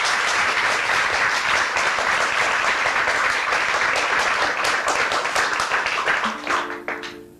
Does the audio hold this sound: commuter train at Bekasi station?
no